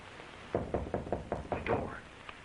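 Knocking on a door in a 1945 Sherlock Holmes mystery film: a series of about eight quick, moderately loud raps, followed by a faint voice.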